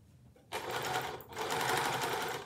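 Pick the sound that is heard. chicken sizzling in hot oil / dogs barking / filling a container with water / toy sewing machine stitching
toy sewing machine stitching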